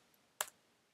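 A single sharp keystroke on a computer keyboard, typed while entering a terminal command during Raspberry Pi setup; one brief, close click in an otherwise quiet room.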